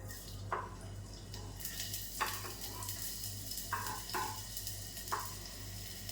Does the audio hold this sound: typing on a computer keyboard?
no